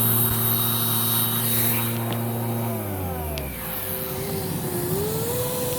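A Filter Queen Majestic 360 vacuum with its nozzle hums steadily close by, one motor tone winding down midway while a higher whine keeps running and rises slightly. No one speaks.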